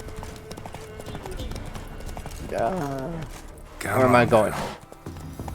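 Hooves of a horse galloping in The Witcher 3, a rhythmic clip-clop that swells louder toward the end, with someone talking over it.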